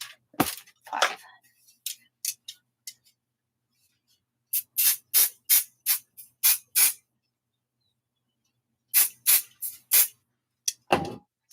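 Short bursts of 505 adhesive spray from an aerosol can, several quick hisses in clusters separated by silence, close and fairly loud, no talking.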